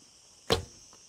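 A single arrow released from a carbon fibre bow at a 20-meter range, a sharp close whoosh-snap that fades quickly, followed by a faint distant thud.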